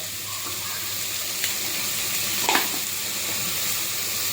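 Sliced onions with a pinch of salt frying in a pan for a bhaji curry, giving a steady, loud, close sizzle with a couple of brief stirring scrapes and no talking.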